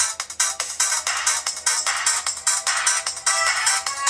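Music track played loudly through the small built-in speaker of an Alcatel One Touch 4015D POP C1 smartphone, bright and thin with a steady pulsing beat running throughout, no voices.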